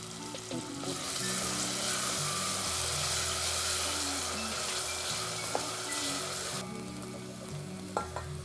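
Onions frying on high heat with a pinch of salt for a chicken biryani, a loud steady sizzle filling the pan with occasional stirring scrapes and clinks, close up and with no talking.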